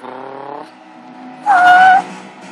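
Mercedes SLS AMG drifting in Gran Turismo 5, with an engine note that fades and then a short, loud tire squeal lasting about half a second.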